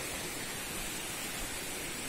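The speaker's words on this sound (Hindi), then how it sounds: "ये है वाटरफॉल" Steady rushing water of a waterfall flowing among large rocks in a forest near a cave at Demul, Chandiposh, Rajgangpur, Odisha; a dense, continuous broadband roar fills the whole clip with no talk.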